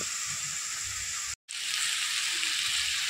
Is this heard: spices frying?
yes